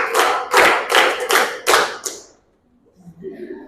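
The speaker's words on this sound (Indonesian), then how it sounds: "Tepuk 1, tepuk 2, tepuk 3. 2 kali tepuk 3." Schoolchildren in a classroom clap a counted pattern together: five sharp, evenly spaced group claps, then quiet with faint voices and a few light sounds.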